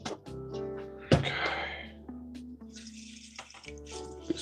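Tap water runs into a sink to rinse starchy food, a brief close splashing stream with a few clunks and drips.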